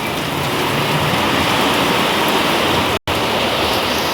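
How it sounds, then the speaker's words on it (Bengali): Heavy rain pours steadily outside a residential colony, a dense, continuous hiss close by that drops out for a split second before resuming at full strength. "এই যে দেখো কীরকম বৃষ্টি হচ্ছে"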